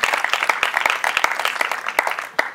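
Studio audience applauding at a live talk event, a brisk spread of overlapping handclaps with sharp individual claps standing out, fairly close and steady throughout.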